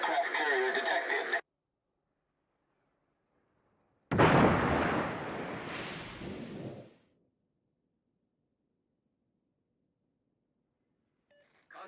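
A warship's heavy gun salvo and explosion in World of Warships, a loud booming blast with a long rumbling tail lasting about three seconds, set between brief bursts of game voice and tones and otherwise silent.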